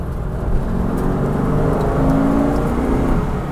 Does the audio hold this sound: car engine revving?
yes